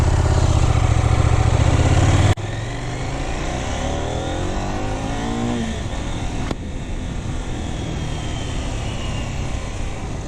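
A 2026 KTM 990 RCR motorcycle engine revs hard while riding, loud and close, with a throaty drone that climbs through gears, cutting back sharply at shifts before pulling up again.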